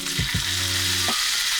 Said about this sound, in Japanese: 弱火でね、こう出てきた旨味をね、絡めながら焼いていきます